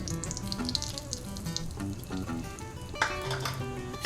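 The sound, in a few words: roasting wheat flour in hot ghee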